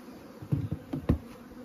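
Bees at an apiary, with colonies and packages newly bought to rebuild it, hum and buzz close by, rising in a few short louder swells over a steady low drone.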